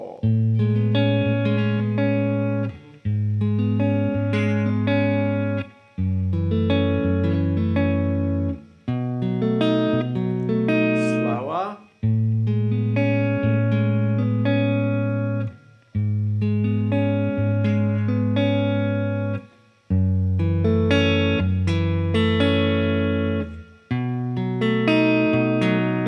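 A song's chorus played on guitar: rich, ringing chords struck about every three seconds, each one sustaining before the next, alone with no voices.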